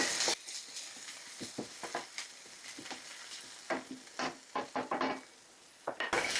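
Onions frying in olive oil in a pan, soft sizzling with intermittent stirring scrapes and clinks, fairly quiet and close, no voices.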